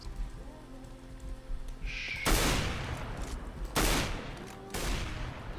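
Gunfire in a Minecraft mod styled after CSGO: three loud, sharp gunshot bursts with ringing tails, spaced roughly a second or more apart, over a steady background hum of game sound.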